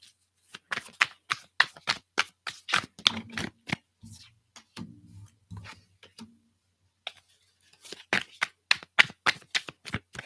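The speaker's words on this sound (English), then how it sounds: "Move my keyboard out of the way here before I close stuff down accidentally." A computer keyboard is shifted aside on a desk, giving bursts of quick clicking and clattering taps with a short lull in the middle.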